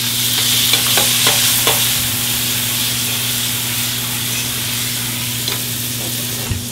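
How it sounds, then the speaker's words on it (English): Squash sautés in a hot pan with a strong, constant sizzle and hiss, broken by a few light stirring clicks, close and loud, beside a steady electrical hum. "While that's warming up, we can saute off our squash."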